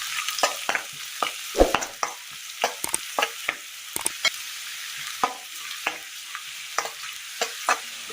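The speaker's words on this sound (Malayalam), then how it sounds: "എണ്ണയിലേക്ക് സബോള അരിഞ്ഞത് ചേർത്ത് കൊടുക്കാം." Sliced onion dropped into hot coconut oil in a pan, with a steady sizzle under repeated sharp scrapes and stirs of a spoon against the pan, close and loud, no talk.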